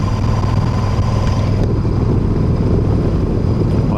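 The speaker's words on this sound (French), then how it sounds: "On va fermer la fenêtre parce qu'il y a du vent." Steady, loud wind buffeting on the microphone while riding a Royal Enfield motorcycle fitted with a Kaoko cruise control, with a constant low engine drone underneath; the roar continues unbroken throughout.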